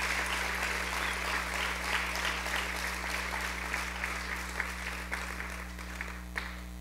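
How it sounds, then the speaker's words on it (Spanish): A church congregation at a Denver retreat claps together in a steady, dense burst of applause that fills the room, with an electrical hum running underneath throughout. "demos una ofrenda de palmas entonces al Señor"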